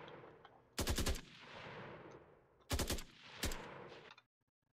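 Assault rifle fire in an Unreal Engine 5.1 first-person shooter: three loud, close bursts of rapid shots over a steady low game ambience, ending in sudden silence.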